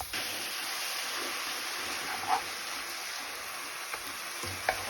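Greens sizzle and fry in a pan with plenty of garlic and onion, a steady close hiss with a few soft stirring knocks and clinks, no talking.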